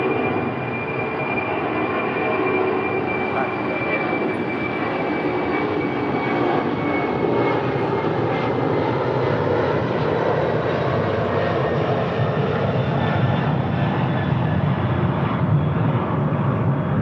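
A heavy cargo jet climbs out on departure, its engines producing a loud, steady broadband roar with a faint tonal whine that holds for the whole stretch without pause.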